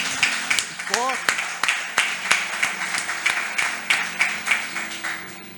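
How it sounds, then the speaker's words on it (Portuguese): A church congregation claps in a rhythmic, fairly steady beat, with a voice briefly heard over the clapping. "Dá uma salva de palmas para Jesus."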